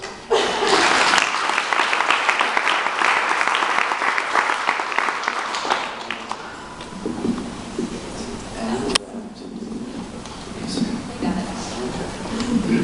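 An audience claps to welcome presenter Jeff at an evening talk. Dense applause rings loud for about six seconds, then thins and fades as voices take over.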